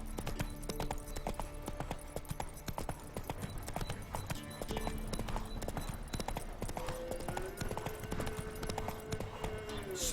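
Horse hooves clip-clop in a quick, steady rhythm as a mount trots along in The Witcher 3, moderately loud throughout, with a brief snort and a few other game sounds around it.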